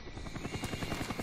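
A Cobra attack helicopter in the game Call of Duty: Black Ops thumps overhead, its rapid rotor chop pulsing loudly and steadily over a dense engine drone.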